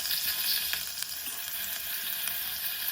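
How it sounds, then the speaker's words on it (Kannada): Crushed garlic, green chillies and spices fry in a pan for moong dal khichdi, a bright continuous sizzling hiss with faint pops, close and even in level, with no talk. "ಫ್ರೈ ಮಾಡ್ಕೋಬೇಕು."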